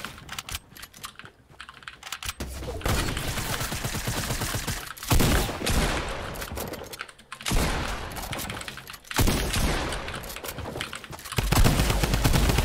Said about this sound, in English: You want to use the drum gun on me?